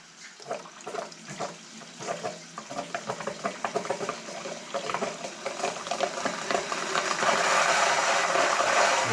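A small micro hydro turbine spins up after its main water valve opens: fast ratcheting mechanical clicks build into a loud, steady rushing whir of water and spinning parts.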